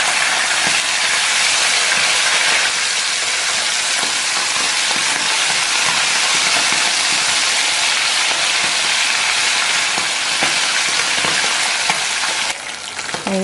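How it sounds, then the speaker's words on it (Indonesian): Salted fish fries in hot oil with a loud, steady, dense sizzle that runs continuously and close throughout, with no talk. "Kalau sudah dicuci, kita akan goreng ikan asinnya."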